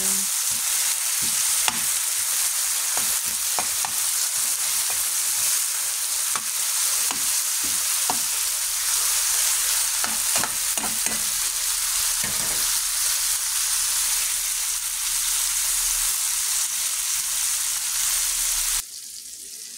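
Tomatoes sauté in a pan for ginisang tuna, giving a loud, constant close-up hiss with occasional sharp spatters. It eases and changes abruptly near the end, and no voices are heard.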